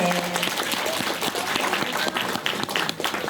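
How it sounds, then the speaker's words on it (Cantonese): Dense, steady applause fills a gathering after a prayer of thanks, a continuous wash of many hands clapping at close range. "拍手，多謝多謝"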